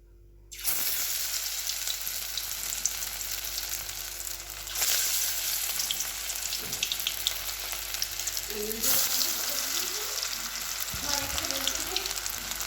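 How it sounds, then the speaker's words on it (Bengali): Onion and lentil-paste fritters fry in a wok of hot oil, giving a steady, loud sizzle throughout with a few stirring and scraping bumps near the end, no talking. "যে বড়াগুলো ভাজছি, এখন এখানে আছে ভাজছি।"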